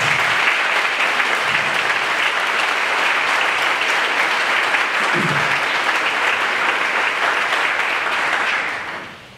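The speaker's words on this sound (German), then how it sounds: "Und auch ein kleiner Applaus, genau." Sustained, full applause from a crowd at a village thousand-year anniversary ceremony, steady and loud for about nine seconds before fading out.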